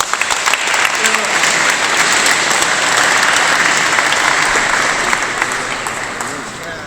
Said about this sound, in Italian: Faremo un applauso a lui, forse.